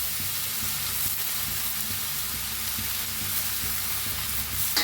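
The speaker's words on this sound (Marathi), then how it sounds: "हलवून सगळं मिक्स करूया भाजी." Drumstick leaf vegetable fries in a pan, a steady close sizzle with soft repeated scrapes and taps of a spatula stirring through it.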